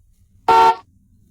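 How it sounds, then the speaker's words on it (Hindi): A car horn sound effect from a video editing app gives a single clean honk of about a third of a second, loud and isolated against silence. "हॉर्न का, देख सकते हैं कार का, हॉर्न 2,"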